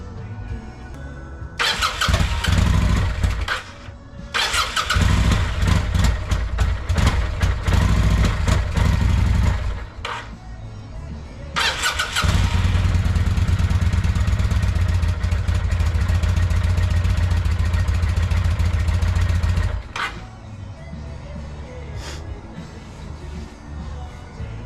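A 1996 Kawasaki Vulcan 800 motorcycle, sitting unused for about 20 years, cranks in several loud bursts and then catches, running roughly and loudly for about eight seconds before cutting out.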